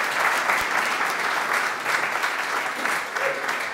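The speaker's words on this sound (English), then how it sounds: "Please give them a big round of applause." Sustained audience applause for an instructional team at a coding bootcamp demo day, steady dense clapping filling the room from start to finish with no talk over it.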